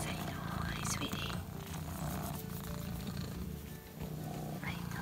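A cat purrs steadily up close in a home morning greeting, a continuous low rolling rumble throughout, with a soft voice faintly underneath.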